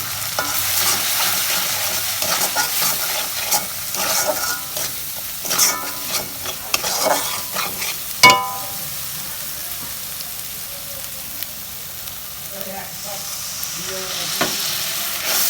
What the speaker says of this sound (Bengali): আদা রসুন ভাজা হয়েছে, এই যে সব মশলা দিয়ে দিচ্ছি।